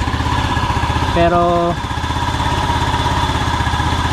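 A Keeway SIP 125 motorcycle idles close by with a steady rapid putter and slightly high idle speed, while someone speaks briefly over it.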